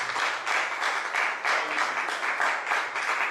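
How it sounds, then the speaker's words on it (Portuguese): A congregation at a Sunday church service claps together in a steady rhythmic beat, about two claps per second, filling the room evenly. "Quero pedir uma salva de palmas para Jesus"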